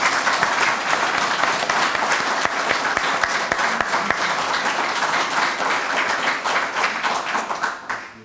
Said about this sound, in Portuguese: e agradeço os aplausos